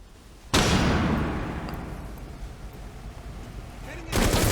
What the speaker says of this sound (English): so we do have a flash grenade. Let's chuck that in.